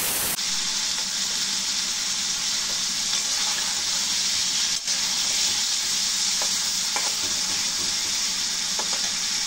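River tengra fish stirred into a spice paste sizzles loudly in the pan, a dense, unbroken hiss that fills the whole stretch, with only a few faint stirring ticks and no voices.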